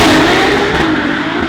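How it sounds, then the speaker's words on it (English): Novitec Ferrari 296 GTS engine revving, a loud, close, sustained roar with a slight dip in pitch over one and a half seconds. "That sounds a lot more like a Ferrari, doesn't it?"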